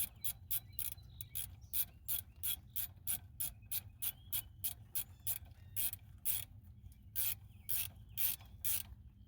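A ratchet wrench tightening bolts on a Kubota HST filter, giving a quick rhythmic series of sharp clicking strokes, close and fairly quiet, with no speech.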